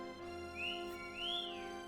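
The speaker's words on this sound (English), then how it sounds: "Listen to the sweet whistle of little R2 there." A little R2 droid lets out two swooping electronic whistles, a short rising-falling chirp followed by a longer arched trill, clear and close over a quiet hum.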